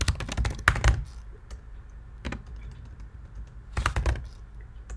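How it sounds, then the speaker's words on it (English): Someone typing on a computer keyboard, with quick close bursts of key clicks separated by short pauses. "So I'm going to type in new listing."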